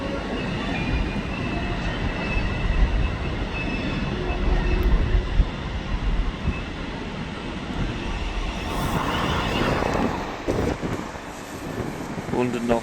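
The Pullman train rolls into the shed at Crewe with a steady rail rumble and brief wheel squeal near the end, while people talk over it.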